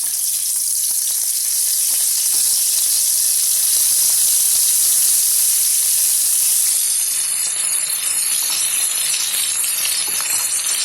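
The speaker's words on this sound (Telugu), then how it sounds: "ఎందుకంటే కాకరకాయలు మనం ఫ్రై చేసుకోవాలి కదా." Pieces of bitter gourd fry in hot oil with a loud, steady, close sizzle and crackling hiss that runs continuously throughout.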